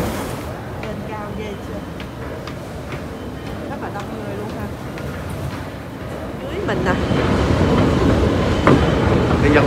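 A Paris metro train rumbles along with rattling wheels and clatter that grows louder toward the end, while people speak over it.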